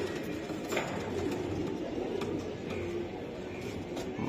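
A racing pigeon coos softly and repeatedly at close range, low throaty calls over a quiet room hum, with no talking.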